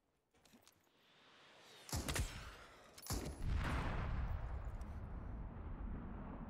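Gunfire in the shooter game Super People: distant shots rising into a dense, rumbling fusillade of sustained bursts that keeps rolling on, fairly faint and with no talk.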